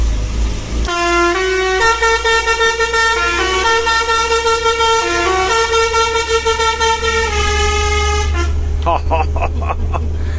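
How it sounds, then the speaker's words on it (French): Car horns honk repeatedly inside a tunnel in a long series of loud, pulsing toots that echo and ring out, over a deep rumbling background. "On aime bien klaxonner à chaque fois dans ce tunnel."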